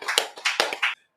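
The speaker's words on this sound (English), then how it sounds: "So I got to give a round of applause there." Brief round of applause on a sheriff's podcast: a few quick, close claps and taps in an uneven burst, cutting off cleanly after about a second.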